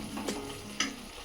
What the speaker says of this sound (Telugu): కొద్దిగా ఆయిల్లో ఫ్రై అయితే బాగుంటుంది.